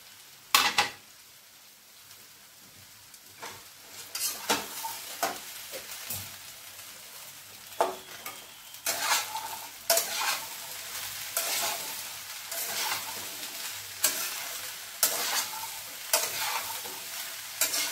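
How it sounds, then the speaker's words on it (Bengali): Flat beans (botboti) stir-fry in oil in a pan, giving a steady soft sizzle broken by repeated sharp scrapes and clinks of the spatula, with no voices. "এরপরে এই বটবটিটাও দিয়ে দেবো।"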